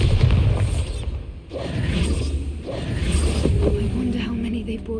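A booming spell blast from the Bombarda blasting charm in Hogwarts Legacy, a deep rumbling explosion with whooshing magical bursts layered over a steady low drone.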